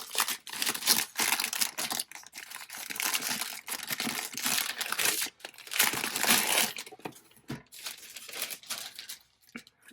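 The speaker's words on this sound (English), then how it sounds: "And then it comes in a plastic like package here, so let's take this off." Plastic packaging is crinkled and torn off a Powersheets planner, with close, busy rustling and crackling in bursts and brief pauses between them.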